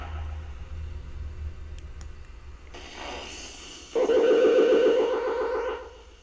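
Ghost box radio (Andes box) rapidly sweeping through frequencies inside an old county jail, producing harsh choppy static that abruptly jumps in and swells into a loud, buzzing, stuttering hiss before fading at the end.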